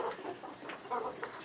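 A farm rooster gives a few soft, scattered clucks at a distance, faint and irregular against a quiet background.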